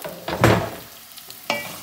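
Finely chopped onions and garlic fry in a pan for a spinach and potato curry, giving short sizzling bursts and stirring scrapes with quiet gaps between.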